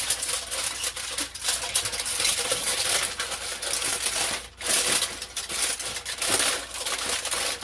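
Aluminum foil wrapped around a BBQ chicken foil pack crinkles and crumples in close, uneven bursts as it is folded, with brief pauses between the handling sounds.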